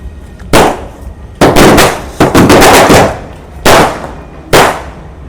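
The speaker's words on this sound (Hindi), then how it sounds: "भाई मिर्ची पटाखे की लड़ी काफ़ी मस्त चली" A string of chili firecrackers goes off in loud clustered pops: a rapid crackling run in the middle, then a couple of separate sharp bangs spaced apart.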